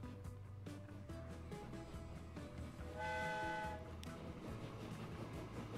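Trains roll through a Transport Fever 2 game world with rhythmic wheel clatter and a steady mechanical hum, while a brief, faint horn toot rises in the middle of the passage.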